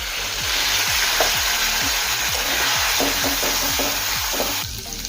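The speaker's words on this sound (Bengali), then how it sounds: "অল্প পরিমাণে গরম জল দিয়ে মশলা কষিয়ে নেব" Spices sizzle and fry loudly with a little hot water in a pan for Bengali ghugni, a steady crackling hiss broken by repeated scraping stirs from a spoon, close and without any voices.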